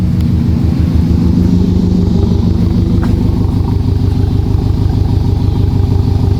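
A Subaru STI fitted with an aftermarket exhaust idles steadily, a loud, close, throbbing low rumble that pulses evenly and stays unbroken throughout.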